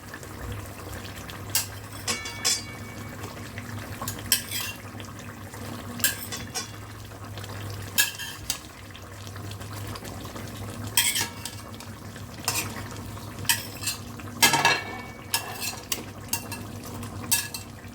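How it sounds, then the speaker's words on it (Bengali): Fish goes into a simmering potato curry in a pot and is stirred, with scattered sharp clinks of a metal utensil against the pot over a low steady bubbling hum and no speech. "এখন আমি মাছটা দিয়ে দেবো"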